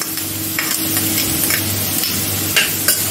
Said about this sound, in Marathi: आणि 2 मिनिटं चांगले परतून घेते।